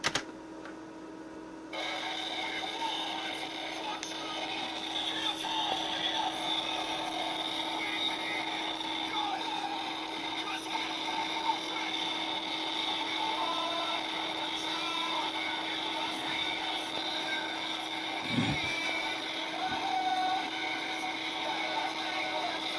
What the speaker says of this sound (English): 30 seconds of it, as performed by the Compaq Portable 386.